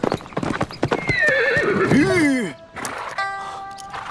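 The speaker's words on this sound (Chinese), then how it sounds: "我听到马蹄声了" Horse hooves clip-clop in a rhythmic approach, joined by a loud whinny or neigh partway through, with voices heard around the animal's arrival.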